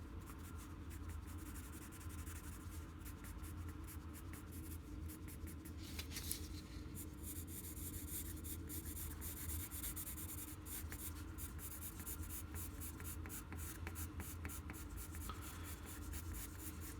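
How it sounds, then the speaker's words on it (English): Colored pencil shading on paper during an architecture drawing demo: a quiet, continuous scratchy rubbing of strokes going back and forth at a steady pace, close but soft. "I often change my pressure of my pencil just to kind of help along that gradual value change a little bit quicker"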